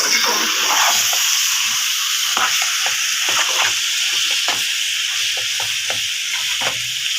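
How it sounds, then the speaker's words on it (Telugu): Goat blood fries on high heat in a pan with a steady loud sizzle and hiss, broken by occasional scrapes and taps of stirring. "హైలో పెట్టి బాగా వేయించుకుంటూ ఉండాలి"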